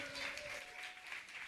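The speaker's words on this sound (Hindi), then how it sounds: "जोरदार तालियां अच्छे संदेश के लिए" An audience in a church prayer hall applauds after a sermon at a youth program, steady dense clapping at a distance that fills the room, with a faint voice underneath.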